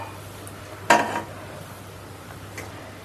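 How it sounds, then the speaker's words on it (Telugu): A kadai pan is set down on a kitchen stove with a single sharp metallic clank and a short ring, then only a faint clink and a steady low hum. "కడాయి అయితే పెట్టుకుంటున్నాను"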